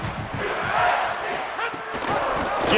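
Stadium crowd in EA Sports College Football 27 roars and chants steadily throughout, a loud, dense wash of many voices with occasional thuds.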